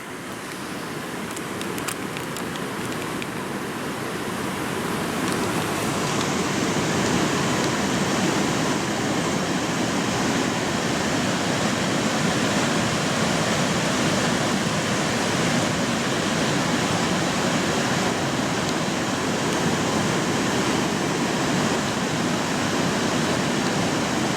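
Rain-swollen Weehakee Creek rushing after a night of heavy rain, a loud, steady broadband roar of flowing water that holds constant throughout with no voices.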